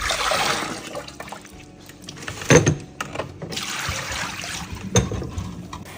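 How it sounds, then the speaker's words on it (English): Shrimp being rinsed under running water in a kitchen during pancit palabok prep gives a gushing, splashing stream that swells and fades, with a couple of sharp clinks and taps mid-way. "we rinse our shrimp thoroughly, at least 3 times preferred"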